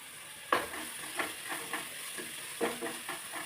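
Onions and tomatoes frying in a pan for a chicken curry: a quiet, steady sizzle broken by several sharp stirring scrapes at uneven intervals, heard close with no talking.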